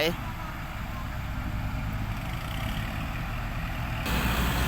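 A farm tractor engine rumbles close by, a steady low heavy drone with a rougher swell near the end, mixed with outdoor noise.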